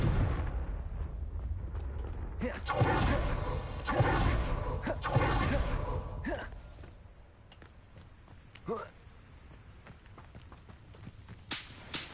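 A fire spell cast in Hogwarts Legacy erupts in several booming, whooshing blasts in the first half, then fades to quieter rumble and a few brief impacts.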